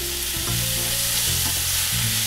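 Mushrooms and capers frying in butter and oil, with a loud, steady crackling sizzle and a few low tonal hums underneath, close and continuous with no talking.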